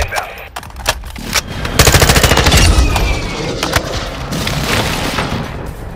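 Air strike explosions with heavy bursts of automatic gunfire in Call of Duty Warzone 2, loud and dense, rapid rattling volleys building into sustained booming blasts and crackling fire.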